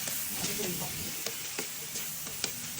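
Ginger sizzling and frying in a pan as tomato goes in for pork binagoongan with pineapple, a steady close crackle broken by brief clinks and scrapes of stirring.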